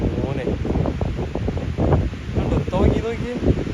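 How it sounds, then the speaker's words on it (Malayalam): Strong wind buffets the microphone during an outdoor walk in Ireland, a steady low roar running under continuous talking. "ഭയങ്കര കാറ്റുണ്ടെന്ന് നോക്കി"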